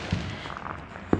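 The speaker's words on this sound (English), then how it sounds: "These fireworks are in the neighborhood." Illegal consumer fireworks set off in a residential neighborhood on the Fourth of July, two muffled distant bangs about a second apart over low outdoor background noise.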